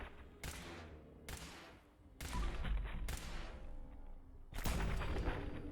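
Gunfire in the video game Fallout 4, with five loud, sharp shots spaced about a second apart, each ringing out with a heavy booming tail.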